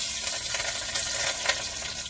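Steady crackling sizzle of chilies frying in hot oil, continuous and fairly close, with no voices.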